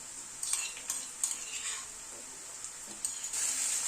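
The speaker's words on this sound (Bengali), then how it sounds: "আদা রসুন কাঁচা লঙ্কাটা পেঁয়াজের সাথে একটু ভেজে নেব" Crushed ginger, garlic and green chilli fry with onion in a pan; a quiet, constant sizzle runs under a string of spatula scrapes and stirring strokes.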